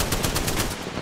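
Rapid automatic gunfire in the video game Apex Legends, a steady stream of loud, close shots rattling for about a second before easing off.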